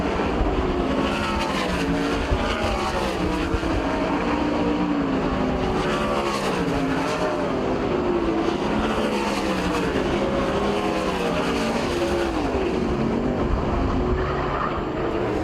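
Race cars roar continuously around Port Royal Speedway during a heat race, engines loud and close with layered revving and tire noise, no pause across the stretch.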